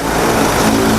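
A Ford Ranger 2.2 Hi-Rider XLT four-door pickup engine runs loud and close in a brief, steady burst of even mechanical noise, with no talking.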